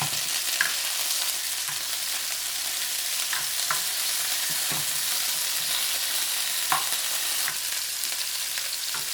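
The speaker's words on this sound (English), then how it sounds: "You just stir them around and turn them over." Shrimp fry and sizzle in a pan while being stirred and turned, a constant hiss with occasional sharper scrapes and taps of the utensil, close and fairly quiet, no talking.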